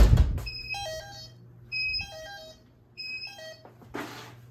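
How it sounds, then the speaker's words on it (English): A Radionics D7412G security system keypad sounds its entry-delay warning after a door is opened, repeating bursts of quick electronic beeps in a rising pattern, about once a second, clear and close with brief pauses between. "we will trigger the entry delay"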